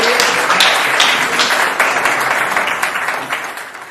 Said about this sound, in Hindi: जोरदार तालियां बजाकर आमंत्रित करिए।